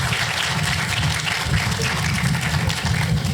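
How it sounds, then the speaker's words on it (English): An audience applauds warmly at a university stadium fund event, a dense, steady clapping that fills the whole stretch without breaks. "thank you for the warm applause"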